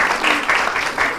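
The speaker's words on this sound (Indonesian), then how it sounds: "Tepuk tangan dulu buat 10 MIPA" Applause from a school audience at a class drama festival performance, a loud, even wash of clapping that swells in waves and carries no talk.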